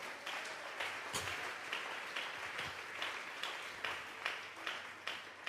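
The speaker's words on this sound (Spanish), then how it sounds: "que se escuche un fuerte aplauso al Espíritu Santo" A church congregation claps for the Holy Spirit during a Thursday Bible doctrine service, a faint, fairly steady wash of applause with a few sharper claps standing out.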